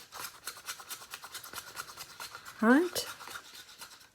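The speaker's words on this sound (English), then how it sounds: "make sure that you really stir it well, because otherwise you'll have little specks" Mica powder being stirred into a mixture for a resin gerbera flower, giving a steady soft rasping and scraping in quick repeated strokes, close and fairly quiet, with a brief voice partway through.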